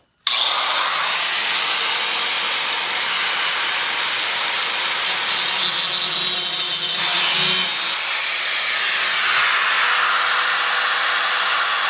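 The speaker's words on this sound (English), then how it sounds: "I'm just going to cut on the inside of that line there, and it should be perfect. Get the big Makita out here." A big Makita power saw cuts through sheet metal for rust repair on a 1990 Nissan 240SX, giving a loud, continuous, harsh grinding whine that starts abruptly and holds steady for about twelve seconds, close up with no talking.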